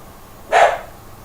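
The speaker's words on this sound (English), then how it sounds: "there goes the dog" A single sharp bark from a dog, fairly close and loud against a quiet outdoor background while crabbing, with no talking.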